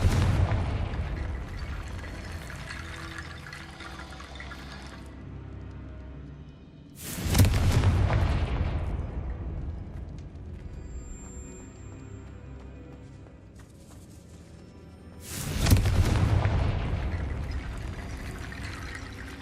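Confringo spell explosions in the Hogwarts Legacy video game: two loud, booming blasts about eight seconds apart, each with a sharp burst and a long rumbling decay that fades into a quiet game ambience.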